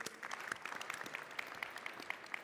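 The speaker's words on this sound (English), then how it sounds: "That's a big round of applause." Audience applause at a conference arena session: a steady round of clapping filling the room for a couple of seconds, with no talk over it.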